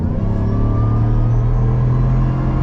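A lifted 2020 Ford F-150 Harley-Davidson special-edition pickup accelerates at partial throttle, giving a steady, close, low engine rumble with a slight rising drone. No talking.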